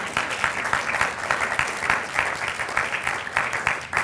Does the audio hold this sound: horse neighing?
no